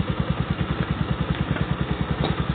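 Motorcycle-tricycle engine idling after a bearing replacement, a steady mid-pitched rhythmic putter with evenly spaced firing pulses, close and moderately loud throughout, with no talking.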